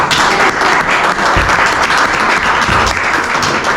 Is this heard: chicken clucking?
no